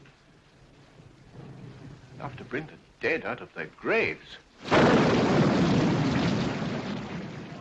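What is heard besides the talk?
thunderstorm with thunder and rain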